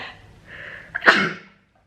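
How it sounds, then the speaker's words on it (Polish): A single person gives one sharp sneeze indoors. A brief inhale comes first, then an abrupt, forceful burst that fades quickly into silence. "Przepraszam za kichnięcie tutaj."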